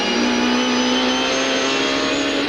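A Mercedes touring race car from the 1995 Australian Super Touring Championships at Oran Park howls at high revs. The engine holds a steady, loud, sustained note with little change in pitch through the brief moment.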